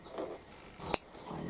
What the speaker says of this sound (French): Donc je découpe la bande.